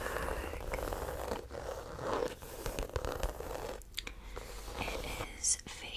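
Hands handle a small clutch bag of fake crocodile skin up close, with soft rustles, crinkles and scratchy taps, plus a quick zip-like rasp, under faint whispering.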